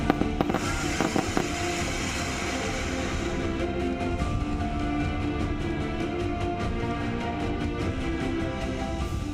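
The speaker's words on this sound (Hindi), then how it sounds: "श्रमवीरों के गांव में जमकर आतिशबाजी हुई" Fireworks go off in a village celebrating the return of rescued tunnel workers, with a dense, continuous crackling of rapid pops and bangs over a loud, rough background din.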